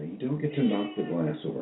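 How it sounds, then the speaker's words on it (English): A pet cat meows over a person talking, the meow mixed in with the speech. "there you go. That's my cat."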